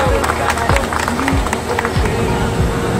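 A crowd at a cancer awareness walk breaks into loud, sustained applause, dense clapping mixed with shouted cheers and whoops that continue steadily throughout.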